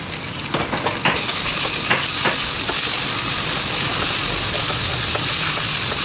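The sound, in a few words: beef with soy sauce stir-frying in a pan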